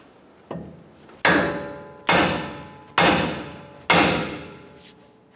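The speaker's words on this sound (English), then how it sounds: "we're going to use our hammer and we're going to strike this part of our knuckle" Four loud, evenly spaced hammer blows ring out against the steel steering knuckle of a 2011-2018 Ram 1500, knocking the upper ball joint loose, each strike close and sharp with a short metallic decay, after one lighter tap.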